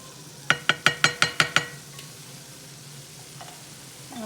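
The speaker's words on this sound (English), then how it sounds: "check on my onions and jalapeno peppers and green peppers. Give them a stir." Onions, jalapeno and green peppers sizzling in a pan as a utensil stirs them, a rapid run of seven sharp clacks against the pan, then a steady low fry hiss continuing alone.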